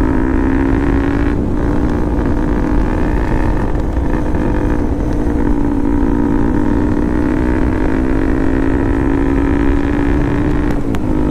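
A motorcycle riding along a road, its engine holding a steady, loud drone with wind rushing past the microphone and no voices.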